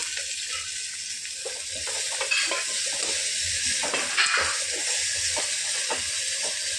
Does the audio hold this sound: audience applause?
no